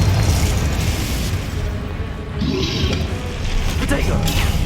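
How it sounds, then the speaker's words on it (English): Confringo fire spell explosions in the Hogwarts Legacy video game, a dense, continuous roar of booming blasts and magical effects that stays loud throughout, with a voice shouting over it. "Confringo!"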